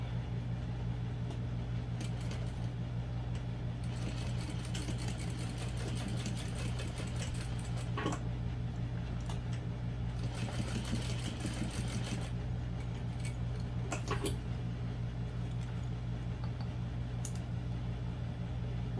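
A sewing machine stitches a zipper seam for a barrel bag in bursts, running steadily for several seconds at a time with brief pauses, close and clear over a constant low hum.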